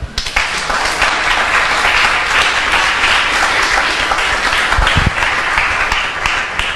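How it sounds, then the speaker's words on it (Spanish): Loud, sustained applause from a church congregation, a thick continuous roar of many hands clapping without pause, with a brief thump near the end. "Den un aplauso, Señor."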